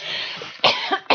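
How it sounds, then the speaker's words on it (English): A couple of sharp, close coughs burst out after a brief noisy lead-in. "See, you made me cough"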